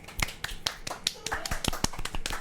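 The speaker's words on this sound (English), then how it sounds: "give a round of applause to the sister for being on the episode for today" A few people clap for a sister at the close of a home episode, making sparse, irregular hand claps that sound close and light.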